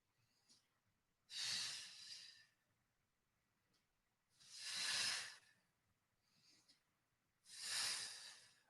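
Three long, deep breathing exhales during a strength and mobility exercise session, each a breathy hiss lasting about a second, spaced evenly apart with quiet pauses in between.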